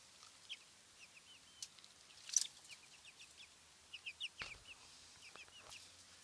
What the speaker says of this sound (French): Là, nous avons les 3 petits poussins barbezieux.